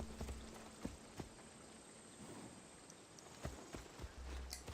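Horse hooves clop in Assassin's Creed Odyssey, a few sparse, irregular thuds over quiet ambient game noise with faint insect-like buzzing in the background.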